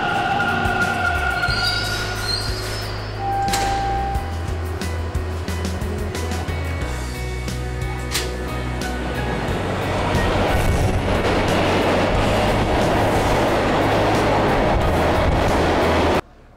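A Toronto TTC Line 2 subway train at Islington Station, a loud steady rumble with a low droning motor hum, rising wheel and rail noise, then an abrupt cutoff at the end.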